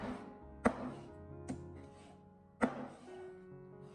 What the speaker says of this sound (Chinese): 我们将五花肉稍微的放凉以后，接着放在板上，把它改刀切成小块。